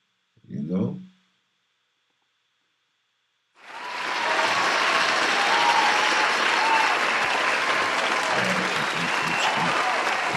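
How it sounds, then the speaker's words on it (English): Loud, dense crowd applause swells in after a brief shout and a stretch of silence, then rolls on steadily without letup to the end. "Let me get my round of applause, man."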